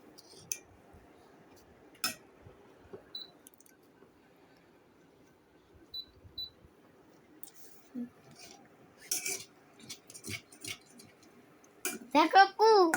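A spoon or spatula stirs noodles in a cooking pan, giving sparse, light metallic clinks and scrapes at irregular intervals, with voices chatting nearby and a busier clatter toward the end.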